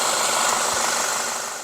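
A warm VW Tiguan 4Motion engine idles steadily, a dense even rumble with broadband hiss, heard close and loud throughout.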